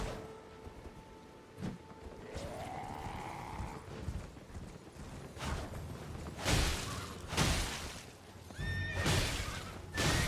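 Horse in the video game Elden Ring, several shrill neighs and whinnies mixed with hoof clip-clops and heavy thuds of combat, fairly close and loud in a rainy outdoor game scene.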